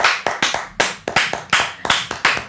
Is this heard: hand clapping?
yes